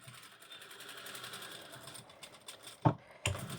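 Sewing machine running steadily as it closes the two side seams of a Chanel-style jacket with a 1 cm seam allowance, beginning with a backstitch; close continuous motor whir with two sharp clicks near the end.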